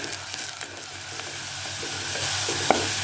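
Sliced onions sauté in oil in a clay pot for biryani, giving a steady soft sizzle with faint scraping stirs and one small clink near the end, and no talking.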